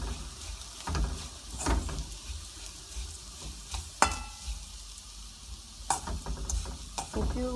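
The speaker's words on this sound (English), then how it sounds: "we'll add the powdered prawn and mix it well" Powdered prawn mixed into chili paste frying in oil, a continuous close sizzle broken by scraping stirs and occasional sharp spatula knocks against the pan, with no talking.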